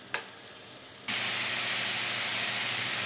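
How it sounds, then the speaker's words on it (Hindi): Onions frying in a pan for a Maithil fish curry give a soft hiss that turns into a loud, steady sizzle after a second and holds to the end, with no voices. "तखन तक प्याज भूजै छी"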